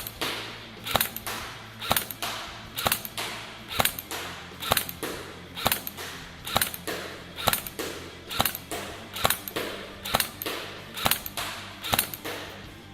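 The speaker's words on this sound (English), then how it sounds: "Do you see it's got a nice blowback function on it? Gives that nice clack sound, bolt sound." G&G MP5 SD6 airsoft gun firing semi-auto on a range, about a dozen sharp blowback bolt clacks in a regular rhythm, close and crisp over a faint background hum.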